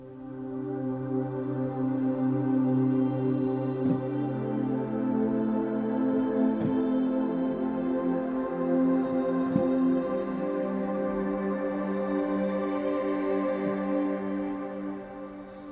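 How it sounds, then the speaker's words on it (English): Rusher, a digital synth pad from Omnisphere, airy and steady, held as a dense sustained chord for about sixteen seconds with faint clicks, loud and alone with no voices. "nice digital kind of sounding pad. It has a lot of air to it."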